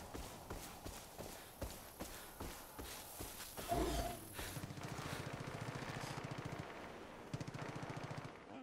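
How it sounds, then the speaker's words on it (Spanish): Gunfire in the video game Far Cry 5 sounds as rapid, evenly spaced shots, quiet and distant, continuing in a steady rhythm with a brief louder burst midway. "Ya se oyen disparos."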